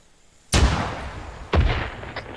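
Two heavy blasts from landmines in a military tactical video game, a sharp booming burst about a second apart, each with a rumbling decay over faint background.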